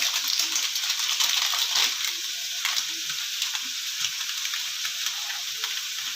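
Onions frying and browning in oil for chicken biryani give off a dense, steady sizzle with scattered crackles and a few clinks, loud and close throughout without talk.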